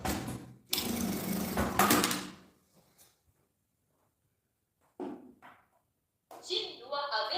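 A sewing machine stitches a baguette bag in fast whirring runs: a steady burst, a pause, then shorter bursts, with quiet gaps between.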